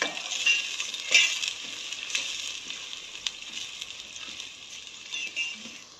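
Fish masala paste sizzles steadily in hot oil for a spicy fish sambar, a continuous bright frying hiss with a few sharper crackles and stirring knocks, close and fairly loud, with no talking.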